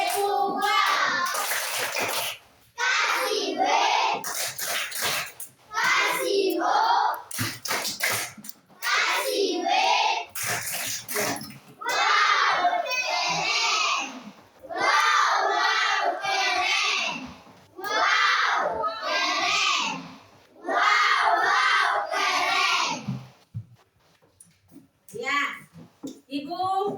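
A classroom of children performing a rhythmic clapping chant led by a teacher, bursts of young voices and hand claps alternating with short pauses, fairly close and lively throughout.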